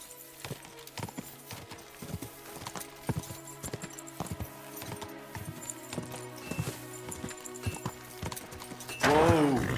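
Horse hooves clip-clopping at a steady walking rhythm in the medieval game Kingdom Come: Deliverance II, close and clear, ending with a horse's whinny.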